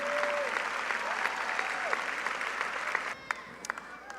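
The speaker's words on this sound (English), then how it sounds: "So a round of applause for what you accomplished over your high school career" Dense, sustained applause from a large crowd at the Reading High School 2019 commencement, honoring the graduating students; steady clapping fills the whole stretch and thins out near the end.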